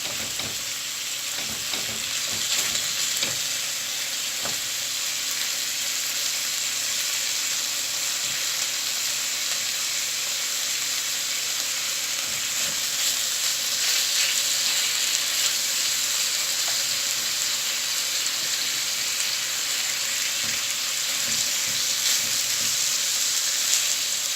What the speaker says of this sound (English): So what we're going to do now is sear this meat.